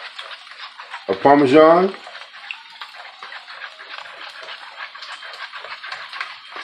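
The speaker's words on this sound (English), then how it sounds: "as we're whisking this up" Frittata egg mixture whisked with Parmesan and American cheese in a bowl, a rapid, steady rhythmic clatter of the whisk against the sides, briefly under a voice.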